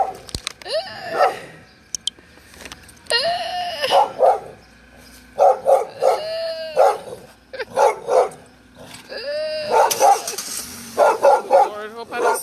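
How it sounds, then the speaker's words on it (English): Dogs bark repeatedly in short bursts close by, some yips and whines mixed in, with voices faintly in the background. "Oh, the dogs."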